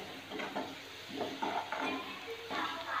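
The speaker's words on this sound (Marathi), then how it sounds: "आणखीन थोडा वेळ परतून घेते।" Onion and garlic sautéing in a pan for onion chutney, a soft continuous sizzle broken by scraping stirs and light utensil knocks, close and moderate in level, with no talking.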